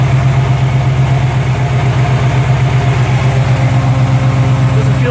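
A 1963 Chevy C-10 shortbox two-wheel-drive pickup idles with headers and a 3-inch exhaust without tailpipes, giving a steady, loud, close low-pitched rumble with an even pulsing beat throughout.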